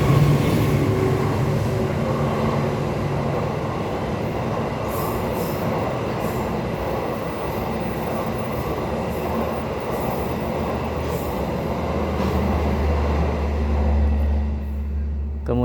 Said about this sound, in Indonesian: Ntar ada kereta.